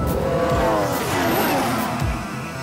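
A Formula 1 car braking hard downhill from high speed into a sharp right-hand corner at the Austrian Grand Prix circuit, its loud engine note sweeping down through the gears with some tyre noise, close and alone.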